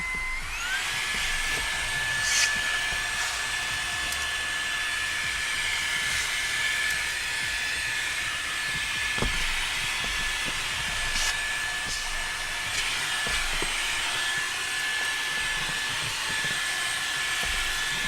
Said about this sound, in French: Donc je vais passer en mode turbo.